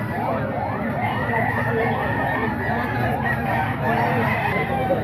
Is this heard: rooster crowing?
yes